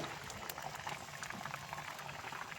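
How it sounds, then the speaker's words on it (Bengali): Water for a pabda fish curry bubbles in a pot over a non-gas fuel fire, a soft continuous rolling boil that stays even and fairly faint throughout. "এখন একটু ফুটবে, তারপরে মাছ দিয়ে দেব।"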